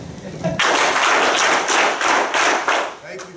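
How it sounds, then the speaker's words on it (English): An audience at a leadership talk on higher education claps in a series of loud, roughly even bursts, with the shuffle and thump of people rising from seats at the start. "If you can hear me, stand up and clap 6 times."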